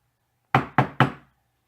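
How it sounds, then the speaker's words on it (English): Three sharp, evenly spaced knocks on a door ring out close and loud in an otherwise silent room, each with a short decay. "There was another knock."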